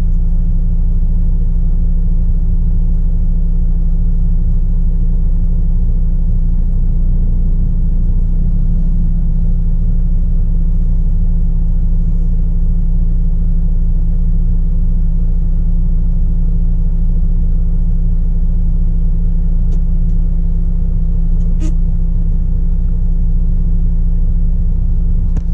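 Volvo truck towing a trailer, a steady low engine drone and road rumble heard from inside the cab, constant and loud with a faint tick near the end.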